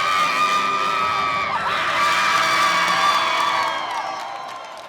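Volleyball fans in an arena at match point, cheering and whooping loudly with sustained shouts that swell midway and then fade slightly toward the end.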